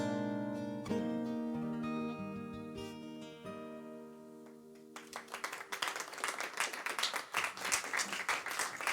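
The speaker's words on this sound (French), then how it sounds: "on peut les applaudir encore plus fort que ça" Audience applause breaks out at the close of an intimate concert by a singer, a dense, rising wash of clapping that swells in after sustained musical tones fade.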